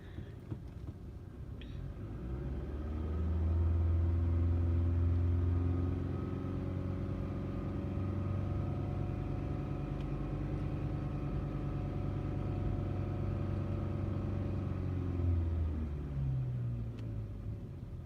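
A car engine runs steadily nearby with a low, even rumble. Its pitch rises a little early on, then holds a smooth drone for most of the stretch before easing off near the end, with no voices over it.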